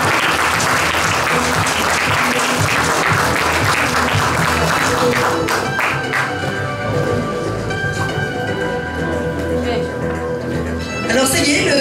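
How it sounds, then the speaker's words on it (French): An audience at a cosplay contest applauds steadily in a loud, dense burst that gradually thins out, with some scattered voices and cheers mixed in. "Les applaudir quand même, les pauvres."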